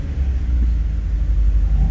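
A car engine idles high and hangs at elevated revs after a throttle blip, a steady loud low rumble without settling, from a car with a sticking throttle at a rainy Thunderhill West track day.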